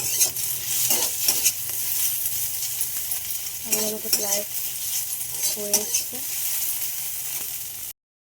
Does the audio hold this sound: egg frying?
yes